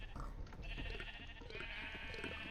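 Sheep bleating in the survival crafting game TerraFirmaPunk, several overlapping calls close by over constant game ambience and a low rumble, with no talk.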